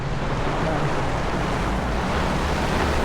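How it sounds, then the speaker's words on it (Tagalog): Strong typhoon wind during Typhoon Carina's flooding in Metro Manila, a dense continuous roar buffeting the microphone with no letup. "Talagang lakas ng hangin."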